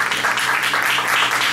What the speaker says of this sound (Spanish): Denle un aplauso a Jesús, por favor.